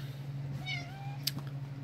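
A cat gives one clear meow, close and moderately loud, over a steady low electrical hum with a faint click afterward.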